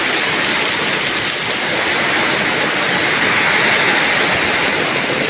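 A downpour in rural Cirebon keeps up a thick, unbroken roar of falling water for several seconds, steady and loud, with rushing water mixed in and no voices.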